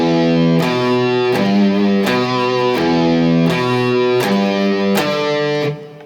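Distorted electric guitar in standard tuning plays the opening line of Dance of the Knights, as heard in Wednesday season 2: a steady, loud series of sustained, sharply picked notes in a slow pulse, alone, ending abruptly.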